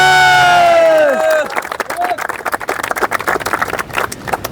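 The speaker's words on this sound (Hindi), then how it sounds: "एक बार सभी के लिए ज़ोर से तालियां" A crowd at an Army 1600-metre running training academy in the hills cheers and claps for the runners, a loud, dense burst of shouts and applause that follows a fading voice.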